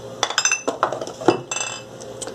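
A pressure cooker pot handled in a kitchen: repeated metallic clanks and clinks of the pot and lid, close and fairly loud, in irregular bursts with no talking.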